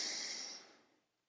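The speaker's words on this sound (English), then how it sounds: "this is going to be performing 10 cycles of your normal breathing pattern" A single demonstration breath of a normal breathing pattern, a soft breathy exhale heard close and alone, fading out over about a second.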